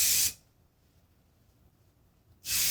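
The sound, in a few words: LaPlay hairspray being sprayed on hair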